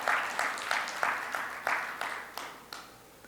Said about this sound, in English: give applause to Maya